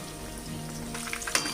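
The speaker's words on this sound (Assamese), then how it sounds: "সো মাছখিনি আমাৰ ফ্ৰাই হৈ গৈছে" Fish sizzling in hot oil while frying to a golden brown, a steady soft crackle with scattered pops and one sharper spit near the end, close by, no talking.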